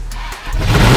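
A big truck's engine cranks briefly and then catches, roaring up into a loud, close, rumbling idle within a second.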